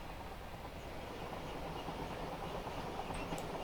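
A Class 319 Thameslink train in a train simulator game passes as a faint, steady rumble with soft rail clatter, heard alone.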